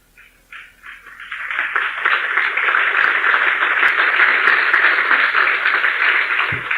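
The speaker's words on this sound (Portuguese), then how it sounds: "Muito obrigado pelas palmas." Audience applause at a motivational talk: a few scattered claps at first, then building into sustained, dense clapping from a large crowd that holds steady throughout.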